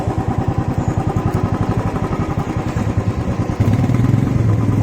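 A motorcycle rides along a road toward a temple, its engine putting out a steady throbbing rumble close to the microphone that grows louder and heavier near the end.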